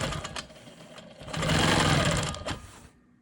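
A sewing machine stitches straight quilting lines across a quilt block in quick steady bursts, the needle's rapid chatter rising to a sustained run before stopping, close and fairly quiet.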